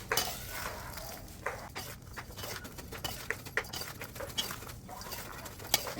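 Spices and salt being mixed by hand for a turmeric pickle, with irregular soft pattering, scraping and clinking against a dish, close and moderately quiet, with no voice.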